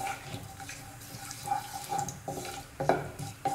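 Cinnamon and spices stirred in a pan over a low flame for a kurma, soft scraping strokes and light clinks of a spoon against metal, fairly quiet and close.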